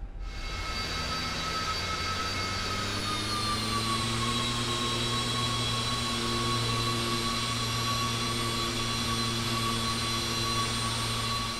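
Twin jet engines of a Cessna Citation II S550 in X-Plane 11 spool up on the runway: a loud continuous whine with several steady high tones sliding slightly in pitch over a low drone, no voices.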